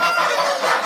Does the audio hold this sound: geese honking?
yes